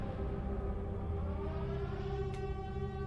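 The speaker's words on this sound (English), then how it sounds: "그것이 Air raid siren." An air raid siren sounds as a steady, droning, multi-tone wail that holds at an even, moderately loud level throughout, with a brief faint click near the end and no talk.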